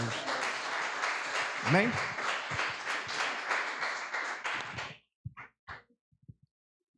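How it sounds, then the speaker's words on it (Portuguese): Church congregation at a Wednesday night worship service claps together for about five seconds, dense and close, then stops abruptly, followed by a short spoken word and a few scattered knocks. "Palmas para Jesus."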